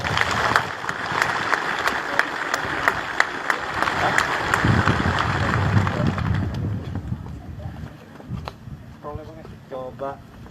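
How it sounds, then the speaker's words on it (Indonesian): Applause from an assembled audience of military officer cadets at a gathering, a steady wash of clapping that fades out toward the end, followed by faint test tones. "Ya, tepuk tangan dulu."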